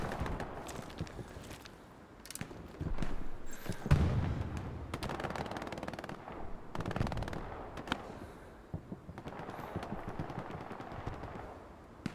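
Gunshots ring out from a hill on a Hell Let Loose battlefield as scattered sharp cracks and short bursts, fairly quiet and distant, over a low rumbling background.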